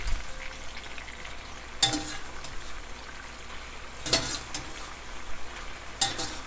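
Al dente rigatoni finishing in a pan of Sicilian sauce with swordfish, eggplant and tomatoes gives a low, steady simmer and sizzle, with three sharp metallic clanks of a utensil against the pan.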